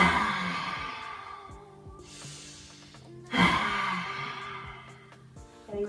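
Forceful breaths during a yoga session's Kali breath exercise, with bursts of exhaled air near the start and a loud one midway, close and alone over quiet room tone.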